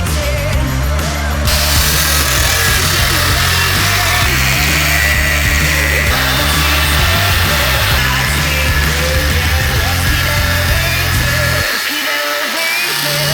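A power tool cuts into a Jeep Rubicon body part during an Ultra4-style build, a loud, continuous grinding whine that holds steady for most of the stretch before cutting out near the end.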